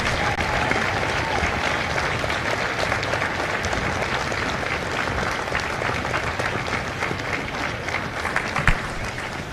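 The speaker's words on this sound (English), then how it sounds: "Ladies and gentlemen, a round of applause for their dedicated service to Corps and country." Sustained applause from a large audience at a Marine Corps recruit graduation ceremony at MCRD San Diego fills the clip, dense and steady, with a faint murmur of the crowd underneath.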